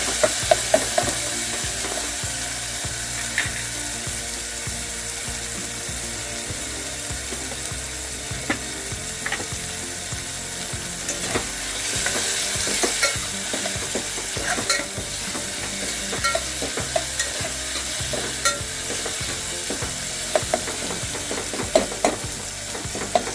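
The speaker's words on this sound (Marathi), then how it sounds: "तो फोडणीला काढून घ्यायचा लसूण मिरची बरोबर थोडं एक मिनिटभर भाजून घ्यायचं" Tomato, garlic and green chili frying in a hot tempering while a spoon scrapes and stirs the pan, a steady loud sizzle with repeated clanking strokes and no voices.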